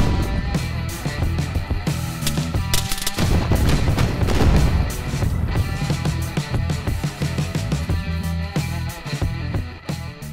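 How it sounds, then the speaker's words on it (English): Dense gunfire from the ARMA 3 video game, with rapid machine-gun bursts and heavy booms overlapping continuously, loud and close, with no one talking over it. "We are taking direct fire from a large vehicle."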